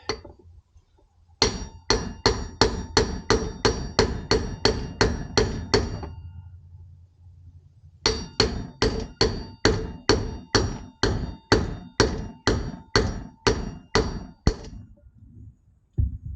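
A socket struck with a hammer to drive wheel bearings into a Suzuki SV650 wheel, heard as two long runs of steady, evenly spaced loud metallic clanks separated by a short pause.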